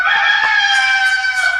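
A rooster crows in one long, loud, sustained call as part of wrestler Red Rooster's entrance music, prominent and close.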